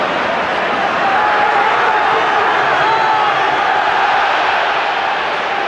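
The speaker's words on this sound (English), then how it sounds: "Crowd trying to influence the linesman." A packed football stadium crowd at a Celtic versus Rangers league match roars in a continuous loud wall of shouting and jeering, steady throughout with no single voice standing out.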